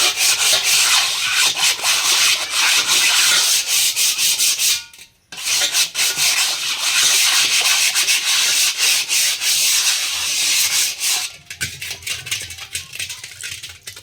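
Copper being scrubbed with salt, making loud, continuous, harsh rubbing strokes that run almost without a break, with a brief pause near the middle and a softer stretch toward the end.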